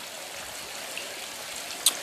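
A pond water feature's stream flows beneath a small bridge at a Santa Fe, New Mexico pond and waterfall, giving a steady, close rushing hiss with one faint splash near the end.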